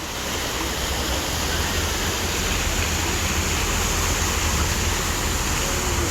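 Water rushes in a continuous, loud, dense roar, like a waterfall or fast stream close by. It stays even throughout, with no voices.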